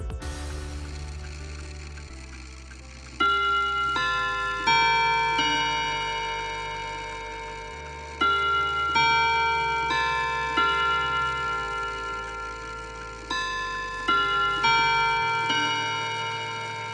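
A Seth Thomas No. 11 chime clock with its back opened shows a steady mechanical ticking throughout, alongside ringing tonal chime notes that sound in successive groups and decay slowly.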